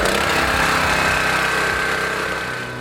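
A small engine runs steadily on 87 octane gasoline that has sat for 15 months, a continuous loud close-up drone that eases off slightly toward the end.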